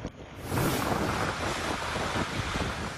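Strong typhoon wind roars steadily against the microphone in Cagayan, Philippines, a dense rushing noise carrying rain, with no voices.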